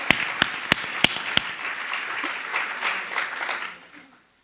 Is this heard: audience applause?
yes